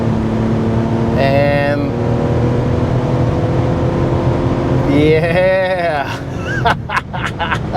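A 2024 Mazda CX-90 three-row SUV in Premium Plus trim accelerates hard, its engine drone rising steadily and loud throughout, with brief speech over the top near the start and again later.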